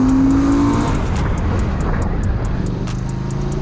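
A QJMOTOR SRV 400S motorcycle engine roars loud and close as it accelerates, with a falling whine at the start, then a strong steady drone over rushing wind.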